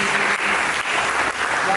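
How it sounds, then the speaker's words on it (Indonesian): A church congregation claps for Jesus during an Ascension Day sermon, producing a steady, full wave of applause with slight dips in intensity. "Mari kita berikan tepuk tangan bagi"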